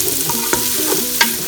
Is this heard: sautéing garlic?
yes